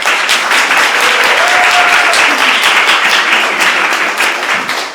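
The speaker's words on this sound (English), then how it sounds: "Thank you for clapping." Audience clapping at a poetry reading night, a full, steady burst of applause from the room, loud and continuous with no talk over it.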